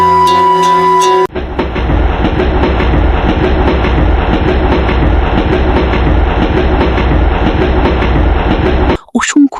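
A cartoon-style train runs steadily along the rails, a continuous loud rumble with clickety-clack wheel noise lasting most of the stretch, preceded by a brief musical tone and ending abruptly.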